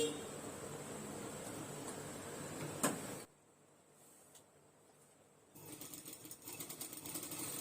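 A sewing machine stitches along a thinly folded cloth edge in short running bursts, with a sharp click near the middle and a quiet pause before the motor starts again at moderate loudness.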